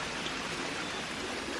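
A waterfall on the grounds of Stowe in Buckinghamshire rushes as a steady, even wash of falling water, moderately distant and unbroken, with no voices.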